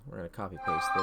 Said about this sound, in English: Apologies for my phone going off.